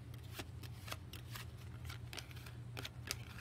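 Playing cards being shuffled by hand during a tabletop card game, a run of crisp riffling snaps and soft slides repeating over a few seconds, close and fairly quiet over a low steady hum.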